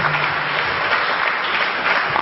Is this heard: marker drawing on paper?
no